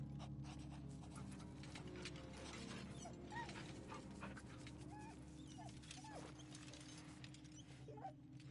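A dog pants and whimpers softly in the role-playing video game Baldur's Gate III, faint rhythmic breaths over a steady low ambient hum.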